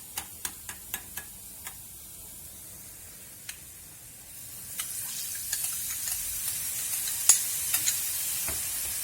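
Diluted tomato paste sizzling in a pan for a chicken döner sauce, with sharp spoon taps against the pan early on and a hissing sizzle that grows louder in the second half, close by with no voices.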